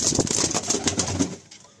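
Pigeons coo steadily in a loft, overlapping low rolling calls repeating through most of the moment before fading near the end, with faint chirps above.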